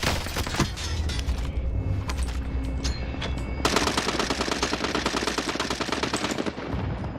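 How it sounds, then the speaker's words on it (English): Rapid, sustained gunfire in a video game, close and loud, with bursts of automatic fire overlapping heavy grenade-like thumps in a dense, continuous barrage. "I tossed some grenades"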